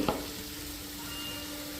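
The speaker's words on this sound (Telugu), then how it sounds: "చక్కగా ఫ్రై అవుతుంది కదా" Ivy gourd pieces frying with masala in a pan give a steady, soft sizzle throughout, with a brief stirring scrape at the start and no talking.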